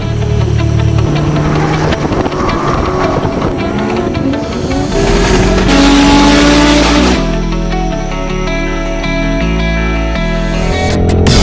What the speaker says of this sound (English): how we set up the AK47 two-step on this bad boy